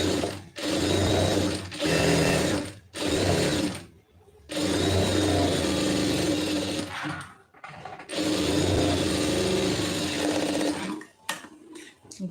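A sewing machine stitches a lined blouse in bursts of steady whirring and clattering, stopping and restarting several times with short pauses between runs, close and clear.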